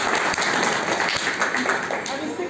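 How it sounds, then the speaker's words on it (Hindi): A large crowd applauds loudly and steadily at a happiness activity session, with dense clapping continuing throughout and a voice talking over it. "उनके लिए जो और जोरदार ताली बजाएं।"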